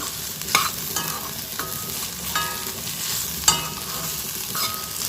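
Green beans and potatoes stir-fry in a pan, a steady close sizzle broken by repeated scraping strokes of a spatula, with no talking.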